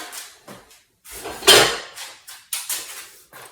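A spoon being taken from a drawer and handled in a homestead kitchen during apple canning, a series of close, sharp metallic clinks and rattles in short bursts.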